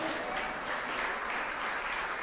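Women in a church congregation applaud during a sermon, a steady wash of clapping held at an even level throughout, no voices standing out.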